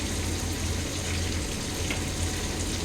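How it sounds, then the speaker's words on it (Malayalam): Water splashing and running out across a kitchen floor, a steady close hissing trickle that keeps an even level for a few seconds, with no voices. "വെള്ളം താഴെ കളഞ്ഞു"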